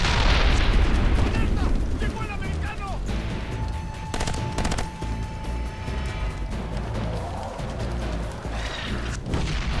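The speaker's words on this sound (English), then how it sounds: "the explosions in this game are just incredible" Explosions and gunfire boom from G.R.A.W. 2, a military shooter, loud and dense throughout, with bursts and crackling effects layered over a steady battle din.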